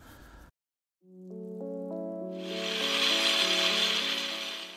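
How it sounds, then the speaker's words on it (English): A 4-inch electric angle grinder whirs up from silence, its whine climbing in pitch, then bites into a brickwork wall for a shallow cut, adding a harsh, loud abrasive grinding that continues to the end. "I use my 4-inch electric angle grinder just to put a shallow cut on the inside of the wall"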